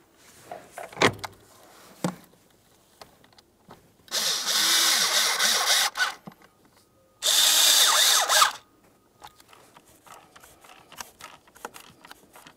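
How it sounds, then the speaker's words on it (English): A power driver runs T20 Torx screws into the HVAC blower motor assembly of a 2005–2010 Dodge Dakota, giving two sustained whirring bursts of a second or more between scattered handling clicks and knocks. "Start in all three of your T20 torque screws"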